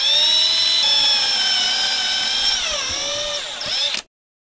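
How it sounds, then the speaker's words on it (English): A power drill boring a hole through a speaker enclosure gives a loud, steady high whine that sags in pitch as the bit bites near the end, then cuts off abruptly into silence. "I'll have to drill a hole in the enclosure."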